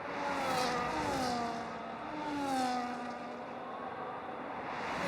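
F1 car engines in an F1 video game at the Brazilian Grand Prix scream at high revs, with several overlapping pitches rising and falling as the cars pass and a steady drone running throughout.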